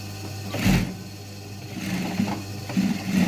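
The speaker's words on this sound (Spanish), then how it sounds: "Realizamos doble costura." A sewing machine stitches a double seam on jeans, running in short buzzing bursts with a steady mechanical whir between them, close and alone.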